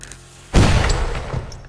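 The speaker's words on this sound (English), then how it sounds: "the explosion was a little bit like this" A sudden loud explosion booms in a Dracula video game after a quiet half second, a sharp blast that rumbles and crackles as it slowly fades.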